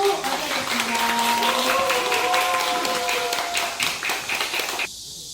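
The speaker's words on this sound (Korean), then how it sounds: "여러분 박수로 맞아주겠습니다" Applause from an outdoor audience welcoming a cultural tourism guide at a memorial event for the Jinju Fortress battle, steady crowd clapping with some voices and a tonal line underneath, cutting off abruptly near the end.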